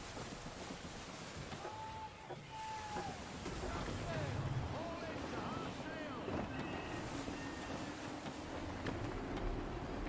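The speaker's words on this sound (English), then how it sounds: "Gusty winds can be difficult to manage." Gusty wind blows at sea in the video game Assassin's Creed III, a steady broad rushing with wave wash throughout, while voices speak over it.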